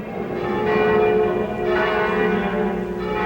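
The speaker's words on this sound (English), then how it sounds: "The bells rang out on Christmas Day in Bethlehem." Church bells ring out on Christmas Day in Bethlehem, a steady wash of overlapping tolls that sustains loudly throughout with no voices.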